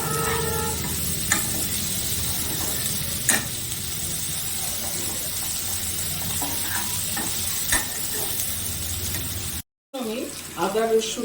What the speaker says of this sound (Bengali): পেঁয়াজটাকে আমি হালকা ব্রাউন হিসেবে ভেজে নিচ্ছি।